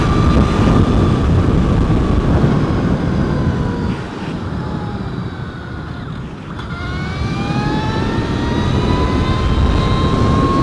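A 2014 Brammo Empulse R electric motorcycle riding on a track gives a loud, steady whine with rising and falling motor tones, dipping briefly mid-ride before climbing again, mixed with strong wind rush and no voices.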